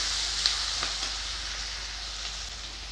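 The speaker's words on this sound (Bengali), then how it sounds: "কড়াতে তেল দেব, 5 ফোড়ন, কুচানো পেঁয়াজ ভালো করে নাড়াচাড়া করে নেব।" Chopped onions and five-spice seeds stir-fry in hot oil in a wok, a steady, close, bright sizzle with a few faint clicks from stirring.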